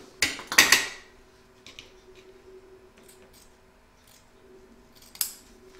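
Scissors trimming fabric for a mushroom coaster, a quick cluster of crisp close snips followed by faint handling sounds and one more snip near the end, with no talk.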